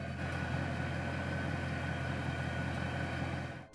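A warm Mercedes E63 AMG engine idles steadily and quietly, a smooth low rumble holding even for the whole stretch with no revving and no voices.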